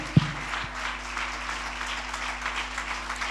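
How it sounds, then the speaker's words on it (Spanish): Church congregation clapping in praise to the Lord during a service, a soft, steady patter of applause after a single sharp thump at the start, moderately distant. "Fuerte ese aplauso de alabanza al Señor."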